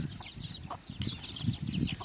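Chickens and small chicks cluck and peep steadily at close range in a rural farmyard in Laos, a busy overlapping chorus of short calls with no talking.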